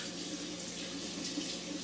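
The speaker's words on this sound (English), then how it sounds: "let me wash my hands because I just touched that beef" Hands being washed under a running kitchen tap after handling raw beef, with a steady, close hiss of flowing water and soft splashing throughout and no speech.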